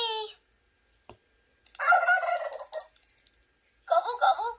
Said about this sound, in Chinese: Gobble, gobble, gobble, gobble.